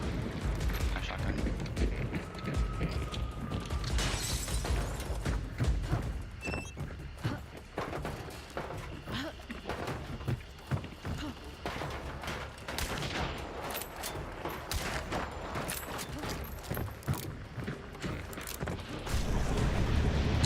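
Shotgun blasts in the Arc Raiders video game, a string of sharp reports scattered through a long stretch of gunfight, mixed with mechanical clanks, thuds and footsteps, some shots near and loud, others farther off.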